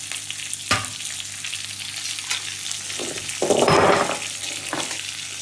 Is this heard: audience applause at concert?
no